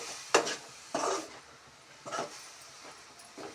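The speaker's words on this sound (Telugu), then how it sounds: "పచ్చివాసన పోయే వరకు బాగా కలుపుకోవాలి" Beetroot curry is stirred and fried in a pan with oil, giving several scraping, clattering strokes of a spoon against the pan at irregular intervals, over a faint sizzle.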